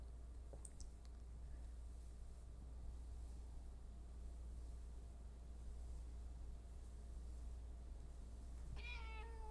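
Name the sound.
cat meowing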